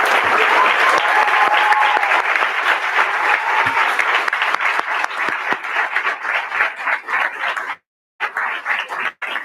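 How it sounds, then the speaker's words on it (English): Sustained round of applause from a large crowd at a 2019 graduation ceremony, dense and steady before thinning out, with a brief full break near the end and a few scattered claps after. "Let's give them a round of applause."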